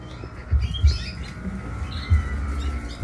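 Caged canaries chirp in brief, high twittering bursts near a person changing cage papers, with soft low thumps and rustling handling noises underneath.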